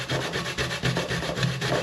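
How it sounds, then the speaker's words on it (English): A dried kola nut (bissi) grated by hand on a grater, giving a steady rhythmic rasping scrape, close and moderately loud, with repeated strokes and no talk. "So let's grate the bissi."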